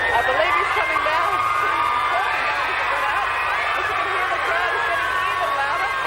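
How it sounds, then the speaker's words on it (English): Large crowd of fans cheering and screaming while awaiting Michael Jackson's arrival in Perth, Australia, a dense, continuous roar of high-pitched shrieks and whoops, loud and sustained with talk mixed in. "Well, we can certainly hear the crowd."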